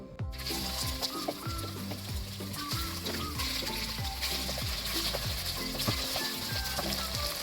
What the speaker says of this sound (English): So I'll fry the chicken nice golden brown